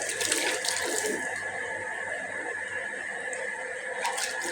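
Water splashes and runs steadily while a cow's udder and teats are washed by hand before milking, a continuous close wet rushing with light splatter bursts near the start and end.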